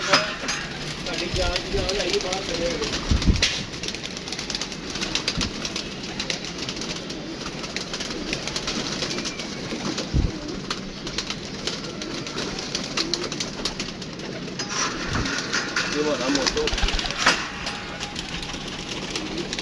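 Soft cooing from white pigeons murmurs amid busy outdoor background noise, with occasional bumps and clatter; voices are faint under the steady din.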